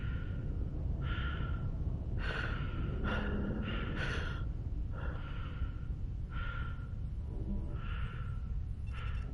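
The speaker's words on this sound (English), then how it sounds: "Please stop breathing like that." A character in the video game Mass Effect 2 breathes heavily, with a rhythmic series of loud, raspy gasping breaths and snorts over a dense, constant game background rumble.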